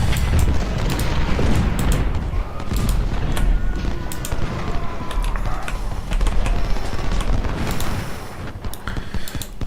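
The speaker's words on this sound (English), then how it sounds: "they get blasted with canister fire." Canister cannon fire in Ultimate General: Civil War, a dense rolling battlefield of booming volleys and crackling musketry, thick low rumble with sharp blasts scattered throughout.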